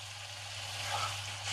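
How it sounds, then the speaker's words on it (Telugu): Liver curry sizzles in hot oil over high heat, a steady close-up frying hiss with a low hum underneath, no voices. "మనం కొంచెం హైలో పెట్టి ఫ్రై చేసుకోవాలి"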